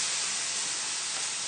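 A cod fillet fries skin side down in a hot pan, giving a steady, close, loud sizzle with a dense, even hiss and no break.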